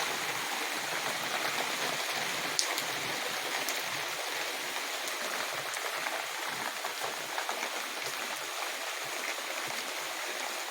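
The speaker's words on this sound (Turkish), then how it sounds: "Çok güzel yağmur yağıyor." Steady rain falls in a dense, even hiss, with occasional louder drops standing out against the wash, continuous and fairly close throughout.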